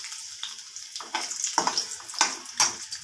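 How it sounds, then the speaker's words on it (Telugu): Garlic cloves dropped into hot oil in a kadai pan, a steady bright sizzle with crackling pops and bursts, close and alone. "వెల్లుల్లిపాయలు వేస్తున్నాను."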